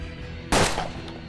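A single sharp gunshot from the turn-based video game Hard West, a sudden loud burst that rings out briefly and decays over a quiet background.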